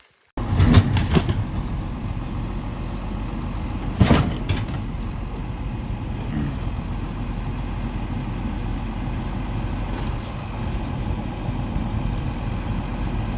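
Tractor engine idling steadily with a fitted bucket while clearing a wrecked Peugeot 306, a low continuous diesel rumble with a couple of sharp metallic clanks early on, nearby and fairly loud.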